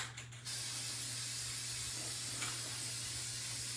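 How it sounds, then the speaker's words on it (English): A can of Mod Podge spray sealer hisses in a steady continuous blast, close and loud, after a brief rattle at the start, with no talking. "Take your Modge Podge spray."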